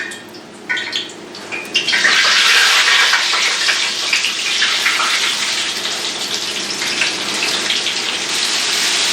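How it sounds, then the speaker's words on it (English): Kitchen faucet turned on with an elbow, running steadily into a sink as a loud, continuous hissing gush that starts after a couple of soft knocks and carries on unbroken, close by with no talking. "So I have to turn the faucet on with my elbow now"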